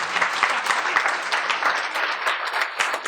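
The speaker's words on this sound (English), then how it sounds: "Please give him a round of applause," An audience gives a warm round of applause for a doctor seated at the back, a dense, sustained wash of many hands clapping at close range.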